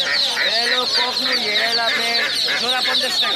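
Farm chickens cluck and squawk continuously at a village poultry and bird market, close and loud in a dense overlapping chorus.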